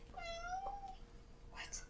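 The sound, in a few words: cat meowing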